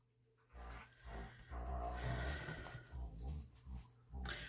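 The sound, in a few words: dogs playing and barking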